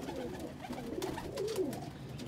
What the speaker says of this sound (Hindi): पुरानी फिरोजपुरी कबूतर है।